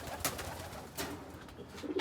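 Racing pigeons cooing faintly, with soft low coos and a few brief rustles or clicks, close by and quiet.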